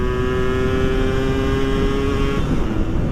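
A motorcycle on a day of touring the roads of Bali holds a loud, steady high-revving engine note close by, pitch level throughout, then dipping slightly near the end, with no talk.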